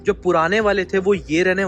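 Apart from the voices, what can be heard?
None of the usual background noises is heard.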